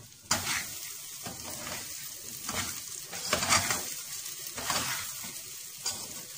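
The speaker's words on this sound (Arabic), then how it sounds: "بس انا عايزاه يتشوح شويه" Uncooked Egyptian-style rice sizzles as it is stirred and sautéed in a pot, with rhythmic scraping strokes of the spoon repeating over a steady frying hiss, close and clear without talk.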